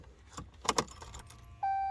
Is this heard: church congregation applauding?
no